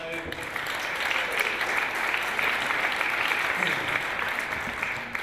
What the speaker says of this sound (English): I only did that to get a round of applause